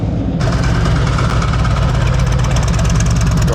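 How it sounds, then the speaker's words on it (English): A motorcycle engine runs at low throttle during slow-speed cone practice, a loud, steady, close rumble with a continuous shaking vibration and no break throughout. "Throttle's low. Whole bike is shaking."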